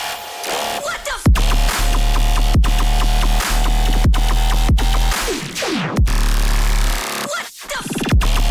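Heavy tearout bass drop in electronic music, loud and dense with grinding, distorted bass stabs broken by sharp gaps and downward pitch sweeps, punchy and relentless with no voices.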